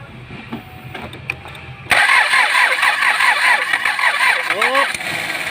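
Kia Sorento with a D4CB diesel engine cranks but will not start, a loud rhythmic starter churn beginning abruptly and running on for several seconds without catching, with voices in the background.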